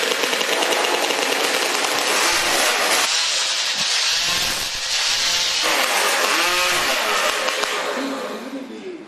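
Hot saws warm up at a STIHL Timbersports hot saw competition, their loud, raspy, high-revving engines screaming continuously up close with rapid bursts and pitch shifts.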